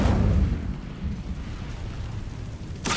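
An Incendio fire spell cast in Hogwarts Legacy, a loud deep whooshing burst of flame that rumbles and fades over a few seconds, closing with a brief bright crackle.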